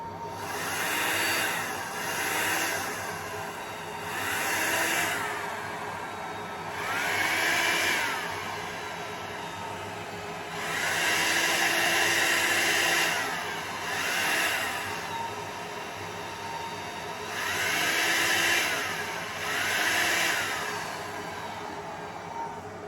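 A steady, whooshing hair dryer runs throughout, its airflow swelling and easing in repeated waves every few seconds, with no voices.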